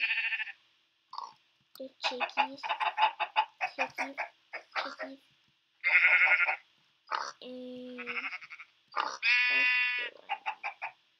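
Sheep bleat in the Minecraft video game, repeating in short, close bursts mixed with other farm-animal calls, while a person talks between them.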